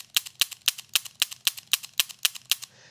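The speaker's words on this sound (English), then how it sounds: "We want to dry fire it again 6 to 12 times" Dry firing a Taurus Judge revolver, about ten sharp metallic hammer clicks in a quick, even rhythm, close and distinct, with no voices.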